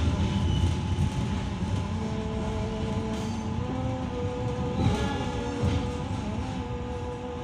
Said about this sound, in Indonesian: Sebelah kiri ada rangkaian kereta api Pangrango.